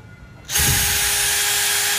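DeWalt DCD791 cordless brushless 20V drill starting up at its second speed setting, a sudden loud electric whine after a quiet moment, holding steady and close with no talk.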